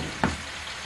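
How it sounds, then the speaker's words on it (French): Tomatoes fry in a pan for an Italian-style croque monsieur, giving a steady sizzle with one brief stirring clatter. "On entend les tomates qui font du bruit."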